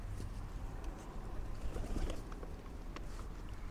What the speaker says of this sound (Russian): Птички там, да, налетели кушать.